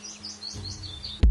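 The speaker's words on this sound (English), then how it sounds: "High-pitched sounds, like a bird's cheerful melody," A small bird chirping a quick run of bright, high tweets, close and clear, cut off by a sudden low thump at the end.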